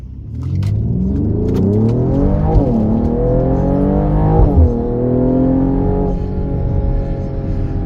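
A 2025 Mercedes-AMG GLE 53 accelerating hard in Sport Plus mode, its engine rising through several gears with audible shift dips, a loud, close, continuous growl that keeps climbing in pitch.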